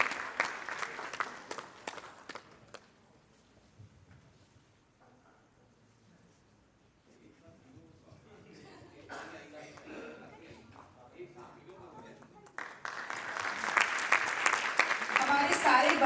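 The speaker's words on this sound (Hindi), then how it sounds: "एक बार जोरदार तालियां हो जाए।" An audience at a Hindi stage play applauds to honour a guest, bursting into loud clapping near the end after scattered claps and quieter murmuring.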